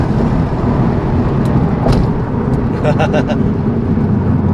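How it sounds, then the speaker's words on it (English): Toyota GR Yaris fitted with a catless downpipe, its engine droning steadily from inside the cabin as it pulls through the gears, fairly loud, with some brief clicks near the end. "So guys, I'm gonna do a second gear pull."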